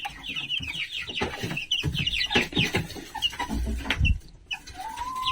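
Chicks and a young rooster cluck and peep in a homemade brooder with a heat source fixed to the wall, a dense run of close chirps and clucks with no talk.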